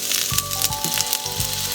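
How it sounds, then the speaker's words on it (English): Onion sautéing in oil in a pan over medium heat, a close, steady sizzle with small crackles and pops throughout. "Saute the onion"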